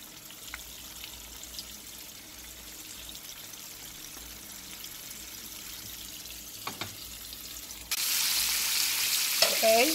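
Chicken fries quietly in a pot with a soft crackle, then a sudden louder sizzle takes over near the end.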